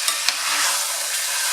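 Beef is stirred with sofrito in a heavy pot, two quick scraping knocks followed by a loud, steady sizzle of frying close by.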